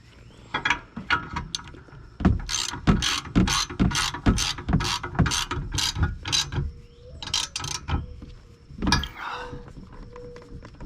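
Ratchet tightening on a RockyMounts MonoRail bike rack, a run of sharp close clicks in quick bursts with short pauses and a few clunks of the rack parts, no talk.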